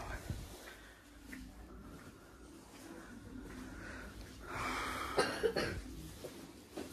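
A person coughs a few times with throat-clearing sounds inside a Fix Price discount shop, with faint voices and store background around them.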